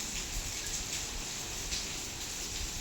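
Steady rain falling outdoors during a family shoot, a constant hiss of drops at a moderate level, with no talk.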